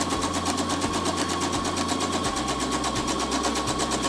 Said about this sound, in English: and I continue sewing